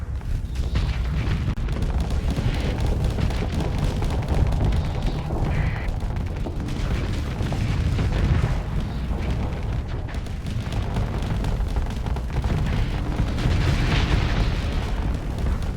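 Ship weapons fire in the space combat game Starsector, a dense continuous barrage of booms, blasts and explosions rumbling loudly throughout with no pause.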